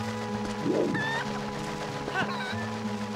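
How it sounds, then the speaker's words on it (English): Cucco chickens from the video game Zelda: Twilight Princess, clucking a few times over steady game music, one louder cluck burst near the start and another later, fairly close and clear. "He's a freaking Cucco."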